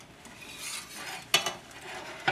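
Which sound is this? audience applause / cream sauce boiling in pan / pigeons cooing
cream sauce boiling in pan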